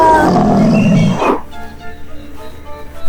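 A loud, deep lion roar fills the first second or so, then cuts off abruptly into faint background music.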